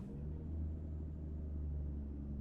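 A deep, steady Cummins N14 diesel truck engine in American Truck Simulator drones at low pitch, constant and fairly quiet, with no voices.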